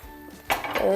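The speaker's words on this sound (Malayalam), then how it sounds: "നമുക്ക് ഒരു പാൻ അടുപ്പിൽ വെച്ചിട്ട് ഗ്യാസ് ഓൺ ചെയ്യാം" A metal pan clanks down onto a gas stove with a brief ringing clatter after a quiet moment, close by.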